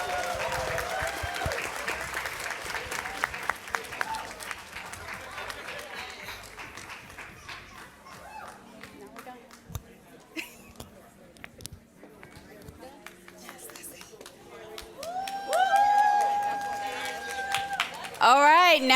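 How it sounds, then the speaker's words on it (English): Audience applause for students at a literacy symposium in Newark, a broad clapping wash in the opening seconds that thins as the room settles, with talk and some music-like tones later on. "let's give a round of applause for these students as well"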